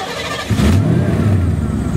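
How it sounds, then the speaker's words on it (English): A 1989 Lincoln Town Car engine cranks and catches, settling into a loud, steady, close-up idle rumble after a brief start. "Okay, so now, when you start the car,"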